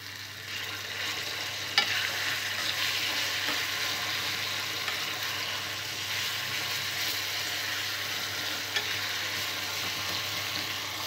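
Ground gongura and cucumber chutney fries in a pan with a steady sizzle. Soft stirring runs underneath and a couple of faint clinks come through. The sound is close and there is no talking.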